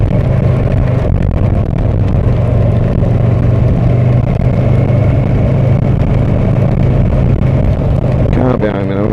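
Kawasaki Versys 650 motorcycle ridden through snow on a work commute, with a steady loud engine drone and wind rush throughout and a voice talking over it.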